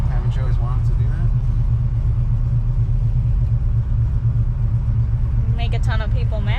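A 1962 Dodge Dart 440 barn find cruising on the road stuck in second gear, its engine a loud, steady low rumble heard from inside the car, with people talking over the drone.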